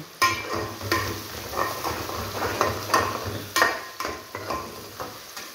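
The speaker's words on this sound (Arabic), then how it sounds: "نشوحها كده نص تشويح" Sliced onion being half-sautéed in a pan, a spoon scraping and stirring in repeated strokes over a soft, steady sizzle, close and moderately loud.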